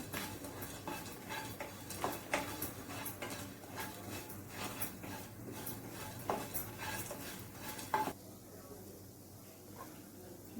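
Whole spices being roasted in a little oil in a kadhai over medium heat: repeated light clinks and scrapes of a spoon stirring against the metal pan, close and fairly soft, then quieter toward the end.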